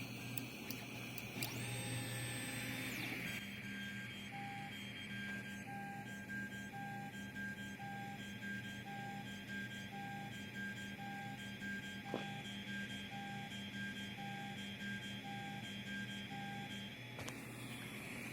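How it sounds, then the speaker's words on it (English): A 3D printer runs an M48 probe repeatability test before a PEI flex plate is checked, giving a steady mechanical hum with a regular series of short electronic tones, one brief louder click near the end, and no talking. "we're going to do is run what's known as an M48 test in order to gauge the standard deviation"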